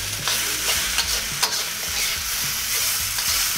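Fried rice sizzles loudly in a hot pan while being stirred, a steady crackling hiss broken by scraping and tossing knocks, close and continuous with no voices.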